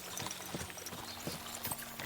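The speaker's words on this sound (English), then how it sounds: "As soon as we cross the stream, we'll give the horses a gallop again." Horses gallop in the medieval video game Kingdom Come: Deliverance II, their hoofbeats thudding in a steady, fairly faint rhythm beneath a constant layer of ambient game noise.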